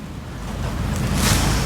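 Sea waves wash onto the shore at Odesa on a snowy, sunny day. The surf rushes steadily and swells louder, with wind blowing across the microphone.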